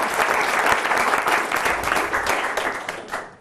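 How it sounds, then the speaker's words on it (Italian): A studio audience gives swimming and lifesaving coach Marco a loud, close round of applause on an Italian regional sports TV show, dense clapping that holds steady and then tapers off at the end. "un applauso a Marco"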